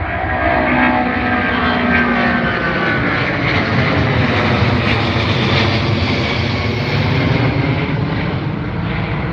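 An American Airlines airliner departs Heathrow with a loud, sustained engine roar that stays strong and steady throughout, with no voices over it.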